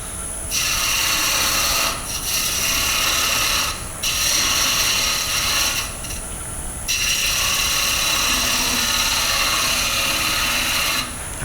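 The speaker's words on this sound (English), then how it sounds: "detail tool just to get that recess correct" Wooden bowl spinning on a lathe while a Hope detail tool cuts a recess in the bottom, giving a steady continuous scraping whir in long passes, broken by brief pauses as the tool lifts off, with no talk.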